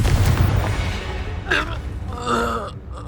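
A Confringo fire spell blasts in the PS5 game Hogwarts Legacy, giving a loud, deep booming burst with rumbling low end, followed by softer crackling game effects.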